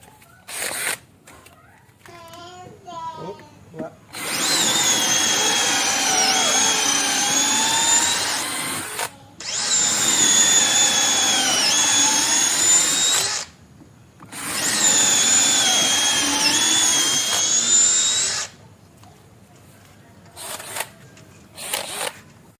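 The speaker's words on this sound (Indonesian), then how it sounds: "mengebor kayu mahoni ketebalan 5 cm menggunakan mata bor kayu ya" A cordless brushless power drill whines in three long, loud bursts of several seconds each, boring into 5 cm thick mahogany with a wood drill bit, with short pauses and faint handling noises between them.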